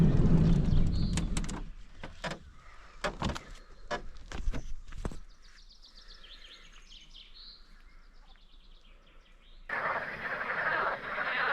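Frogs croak in short, loud bursts at first at a night campsite on Keremali plateau, then a quieter stretch of night ambience with faint chirps, ending in a steady hiss of calls.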